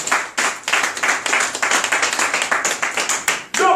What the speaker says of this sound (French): Est-ce qu'on peut acclamer très fort le nom de Dieu?